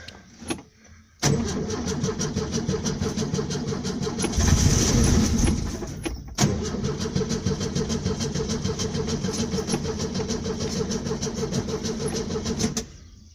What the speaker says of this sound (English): Starter motor's just had a bit of a workout.